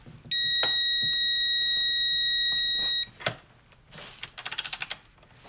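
Capri Tools reversible 6-point satin chrome long ratcheting wrench clicking under torque: a quick close run of about seven sharp ratchet clicks near the end, after a steady electronic tone and a single louder snap.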